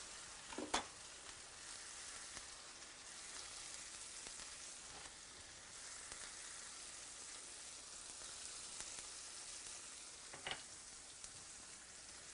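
Chicken pieces brown in a skillet with a soft, steady sizzle and crackle throughout, faint and even, broken by a couple of brief sharp clinks or pops.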